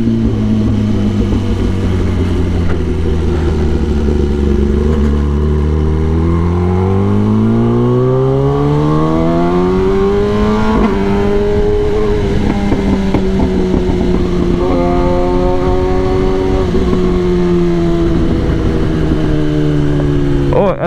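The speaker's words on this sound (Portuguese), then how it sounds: "quanto mais você acelera, mais o escapamento faz barulho" Kawasaki ZX10R motorcycle engine and exhaust revving up and down, loud and close, its pitch sweeping upward and settling in repeated rises with a rough, strained exhaust note, no speech over it.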